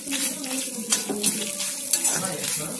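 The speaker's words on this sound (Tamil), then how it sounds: "நல்லா ரெட் கலர்ல தேங்காய் வறுக்கட்டும்" Grated coconut roasts in a pan for sambar, giving a soft, steady sizzle broken by a few scraping stirs of a spoon against the metal, close and clear with no talking.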